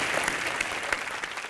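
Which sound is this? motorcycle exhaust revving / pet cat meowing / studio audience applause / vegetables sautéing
studio audience applause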